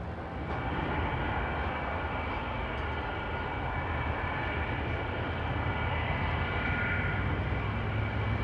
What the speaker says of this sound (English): the last three supersonic passenger airliners taxied towards retirement from commercial flight